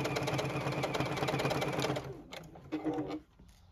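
A JUKI sewing machine stitches the outer, wider edge of a fabric bucket hat, running in a fast, steady rattle for about two seconds, then stopping, followed by one short burst of stitching before it falls quiet.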